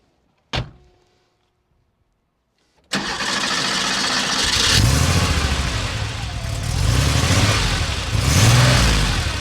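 A 1987 Porsche 911 3.2 G Series coupe's air-cooled flat-six engine: a short thump, then silence, then the engine cranks and catches, idling loudly and revving up in swells, close and alone without talk.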